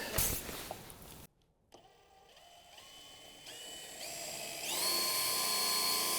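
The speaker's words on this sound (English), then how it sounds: "here goes the lithium-powered drill" Lithium-powered cordless drill running close by in an aircraft maintenance setting, a steady whining motor that starts after a brief gap and climbs higher in pitch, growing louder toward the end.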